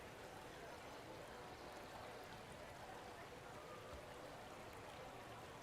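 A waterfall in the Jurassic World Evolution game rushes as a quiet, continuous wash of falling water that holds level throughout, with no talk over it.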